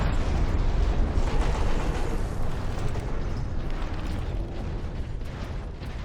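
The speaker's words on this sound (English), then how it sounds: "Let's try the Vengeance launcher a little bit." Vengeance launcher in the Warhammer 40,000: Space Marine video game firing and exploding, a dense continuous roar of blasts and rumbling detonations, loud and sustained throughout without speech.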